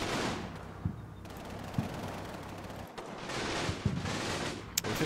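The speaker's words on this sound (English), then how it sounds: "These guys are still shooting away at this 18 position" Distant, continuous gunfire in a World War II strategy battle on an Italian fortress front during a counter-attack, rattling machine-gun bursts and scattered shots under a dense battle rumble, moderately faint.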